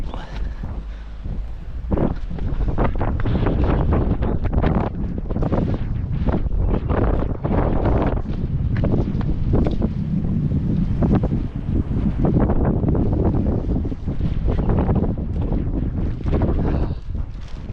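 Strong, steady wind buffeting the microphone on a hilltop during a hike, a constant roaring rush with gusty swells throughout.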